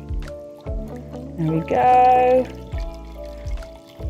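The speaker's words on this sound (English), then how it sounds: "I'm just gonna fill it with clean water and make sure your urn's obviously clean as well" Clean water pours into a flower urn for a Christmas table centrepiece, a rising gurgling fill of about a second near the middle, with soft handling knocks before and after and a brief spoken remark.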